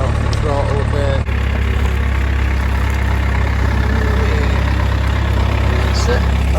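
A vehicle engine runs steadily at low rumble, held on light throttle while driving over slippery ground, loud and continuous throughout.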